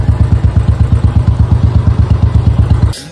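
A motorbike engine warms up at idle, a loud, close, steady rapid thumping putter that stops abruptly near the end.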